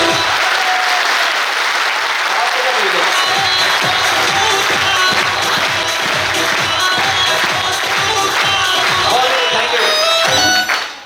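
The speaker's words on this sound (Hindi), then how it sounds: "अब ऐसी ताली बजा के दिखाओ, बढ़िया, बिना म्यूजिक" A large business-event audience claps loudly and continuously without any music, a dense sustained roar of applause with scattered cheers, close and filling the space.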